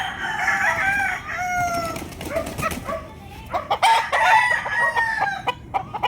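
A rooster crows nearby, drawn-out calls with some clucking, while rain or other background noise patters underneath.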